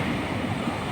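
Large ocean waves wash in as a short burst of continuous broadband surf roar, steady and moderately loud with a faint airy hiss.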